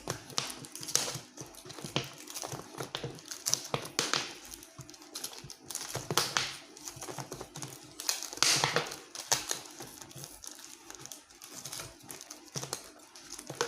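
Packing tape being pulled and wrapped around a plastic Aqua water bottle while making a betta fish enclosure, giving a steady run of close crinkling, crackling and tearing bursts with no talk.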